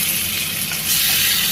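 Tomatoes drop into a pan of frying onions for a tamarind kuzhambu, setting off a loud, bright, hissing sizzle that swells slightly as they hit the oil.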